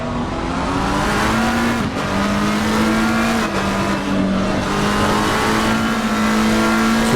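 A race car spins out during an Assetto Corsa Competizione rookie-series race at Kyalami. A loud, continuous engine drone wavers and dips in pitch as the car loses grip, with no talk.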